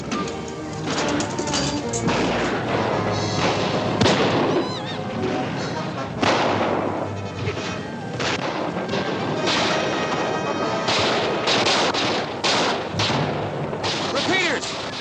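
Western film gunfight with repeating rifles firing, loud cracks and crashing impacts spread through a dense, busy battle mix, with voices shouting over the action.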